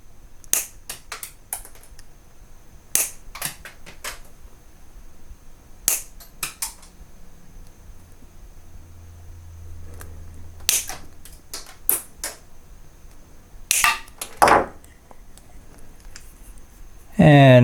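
Wire cutters snip through the cables of a ReActiveMicro universal PSU kit, giving sharp, isolated clicks spaced a second or more apart over a quiet background.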